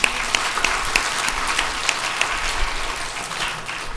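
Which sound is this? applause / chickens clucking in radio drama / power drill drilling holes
applause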